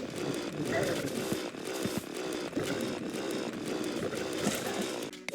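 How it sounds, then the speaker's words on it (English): The Sawtooth Shark chainsaw weapon in Terraria revs in a continuous harsh buzzing drone with slight surges, loud and dense throughout, with nothing else standing out. "chainsaw some demons with the Sawtooth Shark"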